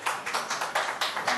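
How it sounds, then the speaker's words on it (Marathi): Audience applause at an engagement party game, a quick run of claps pulsing in about five bursts, fairly close and fairly loud, with no talk over it. "काकीसाठी जरा जोरदार टाळ्या"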